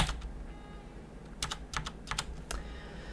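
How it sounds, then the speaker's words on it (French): Computer keyboard keys tapped in short scattered bursts, a few quick clusters of sharp clicks close to the microphone over a quiet low hum, with no voices. "Je peux piloter grâce à mon clavier le moment dans le morceau."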